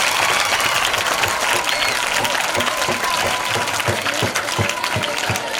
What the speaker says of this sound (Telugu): ఒకసారి అందరూ కూడా క్లాప్ కొట్టుకోండి.